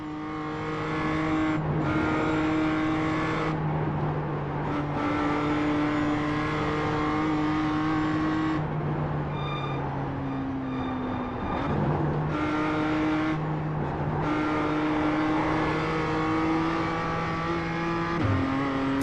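Race car engine of a PCC BMW M2 CSR lapping Willow Springs in a racing video game, a loud steady drone with gear-shift drops and rising revs throughout, no talk.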